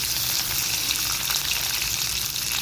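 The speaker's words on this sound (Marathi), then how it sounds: "हा एक कांदा घातला आहे कांदा थोडा परतत आला" A single chopped onion sautés in a pan for masala dosa filling, giving a loud, dense, continuous sizzle that holds steady throughout without any talking.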